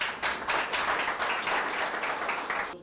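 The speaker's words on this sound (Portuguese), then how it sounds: "Palmas para ele." A room full of people at a waiter training course in Goiânia claps for a participant, dense steady applause close by that fills the whole moment without talk.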